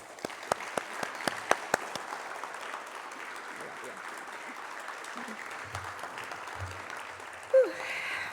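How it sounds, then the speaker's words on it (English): A few scattered claps ring out at a youth citizen awards ceremony and fade into a quiet room with faint murmuring, ending in a brief squeak. "Please join me in a well-deserved round of applause."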